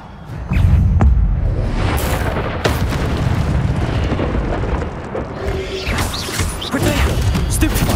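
The Incendio fire spell goes off in the video game Hogwarts Legacy with a heavy booming burst and a sustained roaring, crackling rush of flame. Sharp impacts punctuate the roar, which stays loud and close for several seconds.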